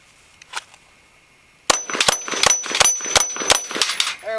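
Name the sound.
Glock 19 pistol shots ringing steel target plates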